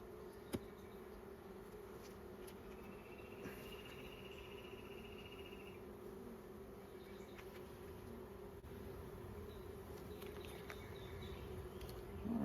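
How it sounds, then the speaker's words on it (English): Honey bees buzzing inside a hive crowded with young nurse bees, a steady low drone throughout with faint higher insect whine and occasional soft handling noises, no talk. "there's a lot of young bees in here."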